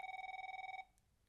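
A telephone bell rings indoors in a quiet setting: one steady, pulsing ring lasting under a second, fairly soft, then it cuts off into near silence.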